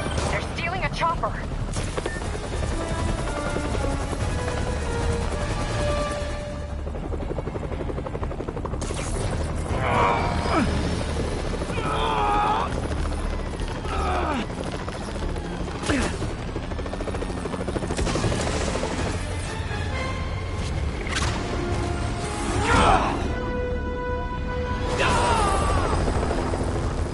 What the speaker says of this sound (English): They're stealing a chopper.